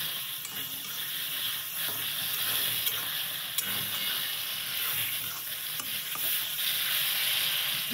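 Tomato and sugar are stirred in a frying pan under a dense, continuous sizzle, with light scraping and clicking from the spoon against the pan throughout.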